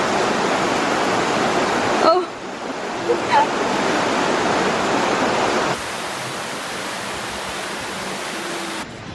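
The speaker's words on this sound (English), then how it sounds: "I don't think I've ever been this close to this big of a waterfall." A big Swiss waterfall, heard from close by, pours out a loud continuous roar while a person briefly exclaims over it.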